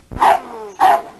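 Dog barking twice in a yard kennel, two close, loud, separate barks with a short pause between them, no talk over them.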